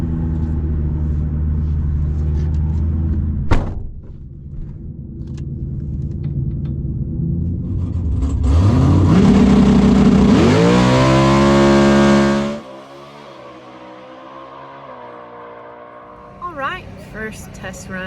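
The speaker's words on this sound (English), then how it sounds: "First test run out. Car did great, left great." Dragster launching on its first test pass at a drag strip: an idling engine rumble jumps into a loud, rising roar of acceleration for several seconds, then cuts off abruptly, with low background noise afterward.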